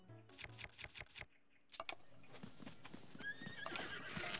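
Horses in Zelda Breath of the Wild, a quick run of hoofbeats clip-clopping followed by a loud whinnying neigh, with game ambience and effects rising behind it.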